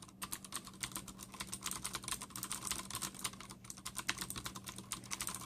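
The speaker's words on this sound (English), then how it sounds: "This is a joy to type" Fast typing on a Ducky Zero keyboard with clicky Cherry MX Blue switches, a close, quick stream of crisp keystrokes with a short pause partway through and no talking.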